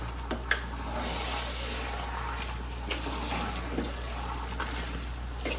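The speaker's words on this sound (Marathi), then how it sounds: "मित्रांनो आता पाणी वगैरे टाकलेलं आहे" Water poured into a cooking pot holding over a kilo of homemade village chicken meat, a soft, continuous splashing trickle over a steady low hum, with a few faint clinks.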